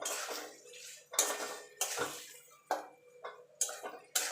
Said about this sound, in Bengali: আদা রসুনের কাঁচা গন্ধটা চলে যাওয়া পর্যন্ত আর টমেটোটা গলে যাওয়া পর্যন্ত এটাকে কষিয়ে নেব।